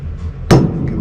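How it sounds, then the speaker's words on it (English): A single sharp tap while fitting a grand piano leg, one close knock against a low background hum. "Give it a little tap."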